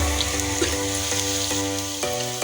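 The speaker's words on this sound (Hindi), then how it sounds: "पकोड़े तैयार हो रहे हैं और इवनिंग स्नैक के लिए।" Pakoras frying in oil over a medium flame give a steady, dense crackling sizzle with small pops scattered throughout, close and continuous with no voices.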